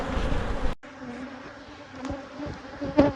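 Honey bees buzz thickly and close around open colonies during a fall hive inspection, a continuous droning hum with a brief gap near the start.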